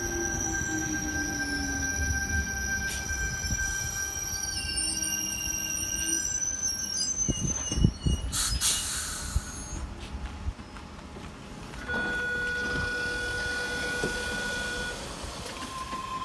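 Sydney train on the T4 line at Mortdale station, a continuous rumble of rail cars with tonal whines and brief squeals, a burst of brake hiss midway, heard nearby without talking.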